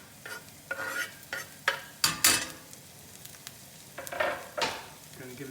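Breadcrumbs with garlic and parsley sizzle in a pan for sole oreganata, stirred with repeated sharp scraping strokes over a constant close fry.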